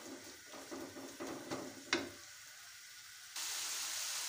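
Spices frying in oil in a pan for a boneless chicken handi, a soft sizzle broken by a few light stirring clatters, then a steadier, brighter hiss of frying alone in the last second.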